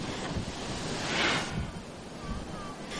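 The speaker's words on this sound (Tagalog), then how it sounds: "Higante ang mga alon mula sa Manila Bay ang nasaksihang humampas sa gilid ng Ross Boulevard." Giant waves from Manila Bay crash against Roxas Boulevard in a storm, a loud, broad roar of surf and gusting wind that swells to a peak and then rumbles on.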